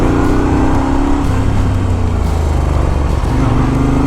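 A Moto Guzzi 1200 Sport motorcycle engine running close and loud, a dense continuous roar that holds steady and shifts pitch slightly as it revs, with no voices.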